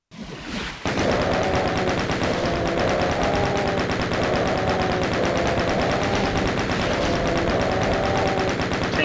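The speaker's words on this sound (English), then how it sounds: "Chain gun him to death." A chain gun fires nonstop in a first-person shooter video game, a loud, dense, rapid stream of shots that kicks in after a brief opening moment and continues without a break.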